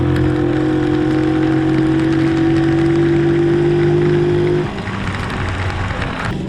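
A Honda P50 moped with its engine built into the wheel idles loudly and steadily at a slightly high idle, then drops to a lower, rougher note near the end.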